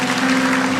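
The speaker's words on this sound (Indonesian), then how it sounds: "Kasih tepuk tangan sama Tuhan." Church congregation applauding together, a steady wash of clapping sustained throughout with a low hum underneath.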